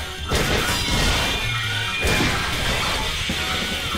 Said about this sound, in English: why can't we have more than one, like, pottery smashing sound effects?